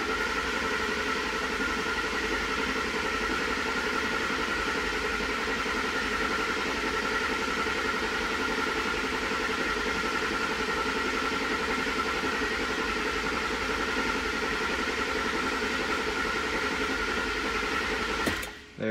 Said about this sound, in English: we're gonna crank the engine until you get some oil pressure over here.